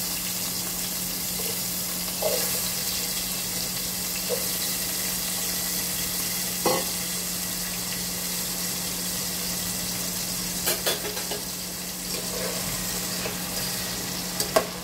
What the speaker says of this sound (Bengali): আলুগুলো আমি একটু ভেজে নিচ্ছি।